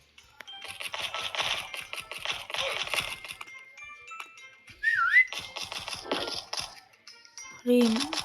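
A whistle inside a Roblox video game, heard as a few short, sharp tonal chirps and sweeps amid clicking game sounds and scattered scraping noises, with one bright whistle near the middle and another at the end.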